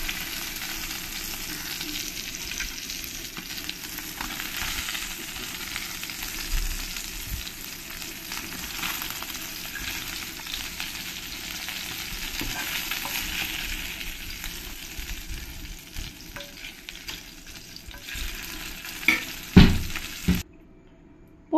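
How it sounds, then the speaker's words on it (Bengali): Small puti fish fry in hot oil in a pan, giving a continuous close hiss and crackle for a long stretch, with a few louder bumps and clatters near the end. "পরের মাছগুলো আমি একই রকম করে ভেজে নেব।"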